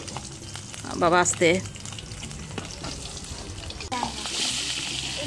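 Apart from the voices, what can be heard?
fish frying in oil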